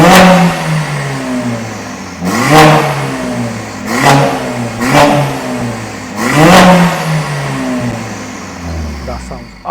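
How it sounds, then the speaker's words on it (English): Car engine with an aftermarket downpipe exhaust revs hard after a cold start, warmed to temperature, giving three loud, sharp rising blips with crackle and falling off between them, close to the microphone. "now that the cold start has gone through, temperatures are all up, let's give it a rev"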